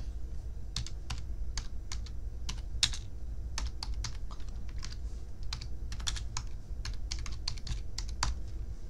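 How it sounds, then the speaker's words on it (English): Rapid typing on a computer keyboard, with dense, irregular clicks and clacks close by over a low steady hum, and nobody speaking. "I am typing way faster than I used to"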